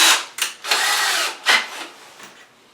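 Power drill driving 2-inch stainless Phillips screws into a plastic toilet flange, a few short whirring bursts close up with brief pauses between them.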